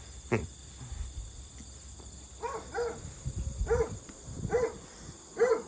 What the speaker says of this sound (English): He's blind, so he hears the chickens over by him and he just barks.